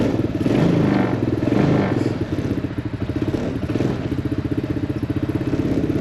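A HammerHead 250cc go-kart engine runs just after starting, a close, loud, lumpy idle with fast regular pulses and slight surges in the first seconds before settling, no talk.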